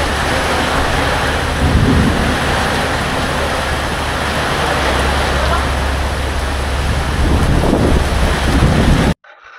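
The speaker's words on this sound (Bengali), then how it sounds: "যেমন জোরে মানে হাওয়া চলছে তত জোরে বৃষ্টি হচ্ছে।" A violent wind and heavy rain storm during a motorbike trip in Odisha, with loud, continuous roaring gusts and dense rain noise buffeting the microphone throughout before cutting off abruptly.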